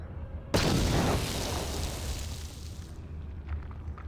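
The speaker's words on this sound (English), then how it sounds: "let's just go with a grenade then" A grenade goes off in Star Wars: Knights of the Old Republic with a sudden loud boom and a rumbling blast that trails off over a few seconds. Nobody speaks.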